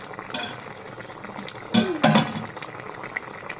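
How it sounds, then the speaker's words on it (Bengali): A metal lid clinks and scrapes as it is lifted off a pot of simmering fish curry with coriander leaves, two sharp close clatters over a soft background of bubbling. "তো এবার ঢাকনাটা নামিয়ে দেখে নেব।"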